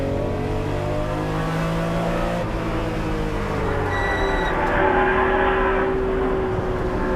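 Several vintage race cars, including a 1975 Porsche 3.0 Carrera RSR, rev and downshift through a corner at a reunion race. Engine notes rise and fall as the cars pass at close range, loud and continuous, with no talking.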